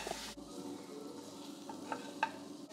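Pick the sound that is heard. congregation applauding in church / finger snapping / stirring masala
stirring masala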